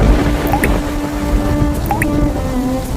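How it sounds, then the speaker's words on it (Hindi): Water drips from the leaking roof of a hut, with two distinct drops about a second apart landing over a steady, noisy background. "इधर भी पानी टपकने लगा"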